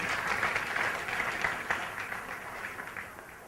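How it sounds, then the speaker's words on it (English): Audience applause at an academic keynote event welcoming a professor: a steady, moderately loud wash of many hands clapping that fades slightly toward the end. "So huge round of applause in welcoming Professor Devang Khakkar."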